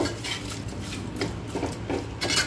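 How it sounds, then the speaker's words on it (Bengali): Mutton being stirred with a little sugar in a cooking pot, a handi: continuous scraping and rubbing of a utensil against the pot with light clinks, moderately loud and close, with no talking. "এবারে এটাকে একটুখানি নাড়াচাড়া করে নেব।"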